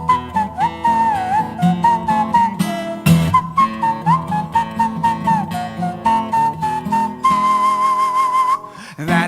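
A live performer on stage whistles a melodic instrumental verse, a clear, steady tune with sliding notes over a rhythmic musical backing, close and prominent throughout.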